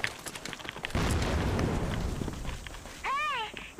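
A hand grenade explodes in a multiplayer shooter game, a rumbling blast with crackling debris that swells and fades while players chatter over voice chat, followed by a brief electronic warbling tone.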